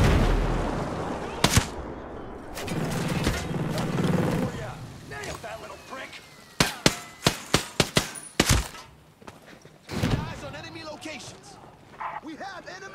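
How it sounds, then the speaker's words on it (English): Incoming rocket and gunfire in the video game Ghost Recon Breakpoint, with sharp bursts of shots and blasts clustered mid-clip and again later, over a continuous bed of battle noise and game voices talking. "We got a rocket coming!"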